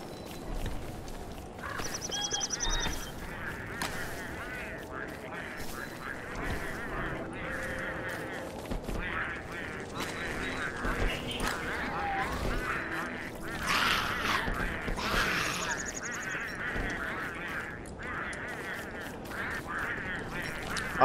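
A bird in the video game Don't Starve Together gives repeated nasal, duck-like quacks and honks against a steady game soundtrack, with calls recurring every few seconds throughout.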